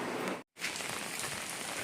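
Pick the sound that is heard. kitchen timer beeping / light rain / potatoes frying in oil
light rain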